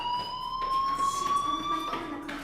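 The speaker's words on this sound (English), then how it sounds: "Hey, do you hear that fire alarm?" Electronic fire alarm inside the video game Life Is Strange sounds a steady high pitched tone, slowly rising, with soft background thuds and movement beneath it.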